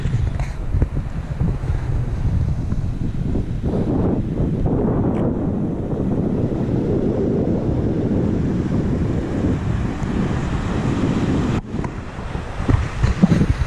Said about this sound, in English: So this is the beach.